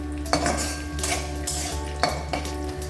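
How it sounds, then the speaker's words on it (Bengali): Dried dates, coconut, cashews and raisins being fried and stirred in a pan, a close metallic scraping and clinking of a spatula against the pan in irregular strokes over a low steady hum, with no talking. "দিয়ে এটাকে আমি ভালো করে ফ্রাই করে নিচ্ছি।"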